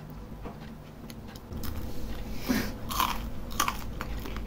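Close biting and chewing on a hamburger, with a few crunchy bites and soft mastication sounds under quiet background noise, and no one speaking.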